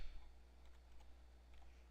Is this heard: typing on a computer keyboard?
yes